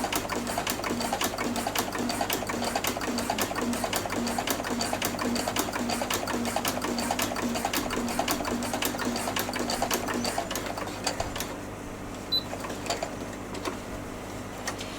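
A sewing machine stitches at about medium speed with a ruffler foot attached, giving a steady rapid mechanical chatter with regular ticking clicks, close and continuous for about fifteen seconds, easing off near the end.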